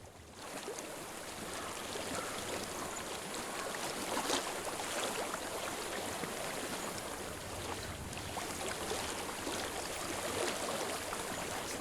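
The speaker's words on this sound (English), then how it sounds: "I hear water. Go to it." Water flows steadily in a stream in the video game Hellblade: Senua's Sacrifice, a soft continuous rushing wash that stays even throughout with no voices.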